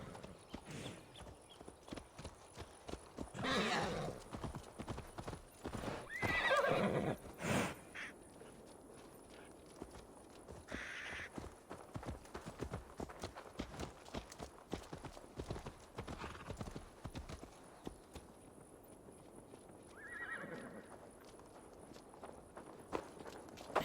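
A horse walking in Assassin's Creed Valhalla, steady clip-clopping hooves throughout at a slow, even pace, with a few brief snorts and louder bursts, moderately faint.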